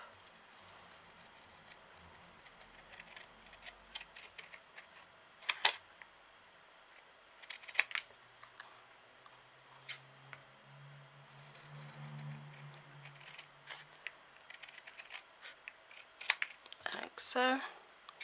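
Scissors snip through paper cardstock during a stamping craft, giving a few sharp isolated cuts spread over quiet room tone, with faint handling rustle between them.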